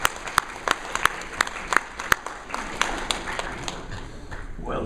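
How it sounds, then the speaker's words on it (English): A small audience applauds a guest at an opening ceremony, with sparse, sharp individual claps standing out over a light, scattered patter. A steady high tone runs underneath. "Give her a round of applause."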